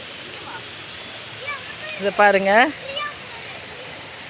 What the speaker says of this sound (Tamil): அருவியில் தண்ணி கொட்டுது.